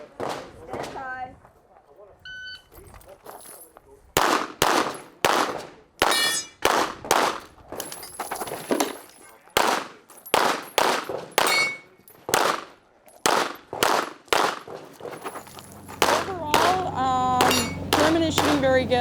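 Sharp, loud gunshots fire in rapid strings, mixed with metallic clangs of steel targets being hit, on a Sig Sauer competition stage at the World Shoot in South Africa. A brief voice is heard before the firing starts.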